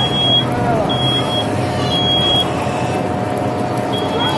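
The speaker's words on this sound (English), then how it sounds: "there's your fire alarm already going off" A high electronic smoke alarm beeps in short bursts during a house fire, repeating at intervals over a steady rumbling background of engine-like noise.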